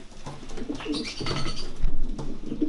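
Racing pigeons in a breeding loft coo in soft, repeated throaty phrases, close by and alone without speech.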